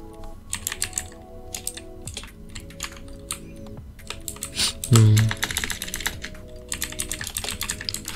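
Fingers type quickly on a mechanical computer keyboard while coding, with close, crisp, irregular bursts of clacking keys and a heavier thump midway through.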